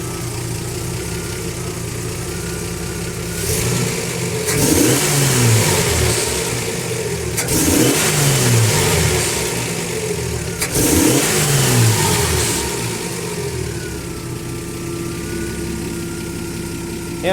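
A Ford truck with a turbocharged 300 engine idles steadily and revs up three times in regular surges, loud and close, each rev rising and falling back to idle.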